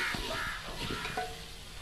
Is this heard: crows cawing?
yes